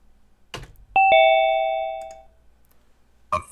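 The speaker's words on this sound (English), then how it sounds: "I just heard a ding dong" A doorbell rings a clear two-tone ding-dong once, loud and close, its chime ringing out and fading over about a second in a quiet room, followed by a brief muffled bump.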